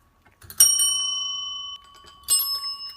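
A bright notification bell sound effect rings twice, a sharp ding that rings out for over a second, then a second ding about two seconds later, clear and alone.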